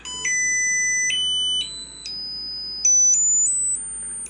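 A Tesla coil sings a pure electronic tone that steps through a series of held pitches, each note sustained for about a second before jumping to the next, loud and clean over faint background hiss.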